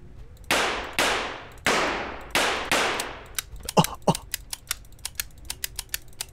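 Gunfire in the video game Cubicle: four sharp handgun blasts with long ringing decays, followed by a flurry of fainter clicking and clattering hits.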